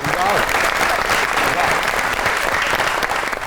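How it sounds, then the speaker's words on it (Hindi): A studio audience at a Pakistani comedy talk show breaks into steady, loud applause that holds evenly from start to finish, with a faint voice underneath. "बहुत सी तालियां इनके लिए।"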